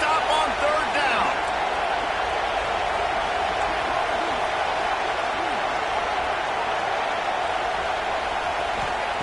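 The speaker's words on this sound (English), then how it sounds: "Oh, this crowd wants it." A stadium crowd roars steadily in a college football video game, a broad, constant wash of cheering that runs throughout under a commentator's voice.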